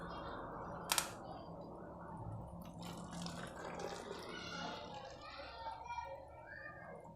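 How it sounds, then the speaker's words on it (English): Water poured into a plastic bottle pierced with holes and wrapped in sellotape, a steady splashing rush that runs throughout with a brief sharp knock near the start, with faint talk in the background. "Now let me add the water."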